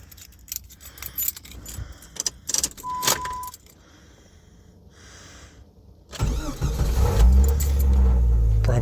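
Keys jingle and clatter up close, then after a quiet pause a warm car engine with a new Walmart EverStart Maxx battery turns over and catches almost instantly, settling into a steady idle.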